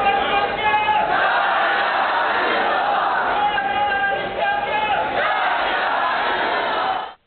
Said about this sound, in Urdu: شرکا وقفے وقفے سے پرجوش نعرے لگاتے رہے